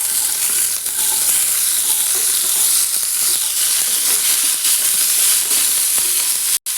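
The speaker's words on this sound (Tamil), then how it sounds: "இப்போ வெங்காயம் வதக்கிக்கலாம்." Small peeled shallots, about 200 grams with curry leaves, sauté in hot spicy oil for a Kongu-style chicken fry, giving a loud, steady sizzle with stirring scrapes throughout and a brief cut near the end.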